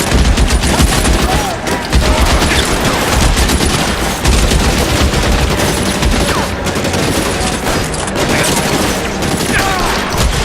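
Dense, loud gunfire in the L.A. Noire shootout, rapid machine-gun bursts and overlapping shots filling the scene continuously, with occasional voices under the fire.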